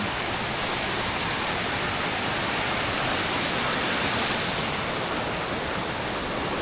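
Waterfall at Mambukal, a dense, steady roar of falling water filling the whole stretch at constant loudness, close and unbroken, with no voices.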